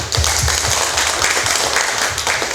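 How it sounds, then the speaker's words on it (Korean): A lecture audience claps together in steady, loud applause that fills the whole moment without a break. "박수 한번 쳐드릴게요"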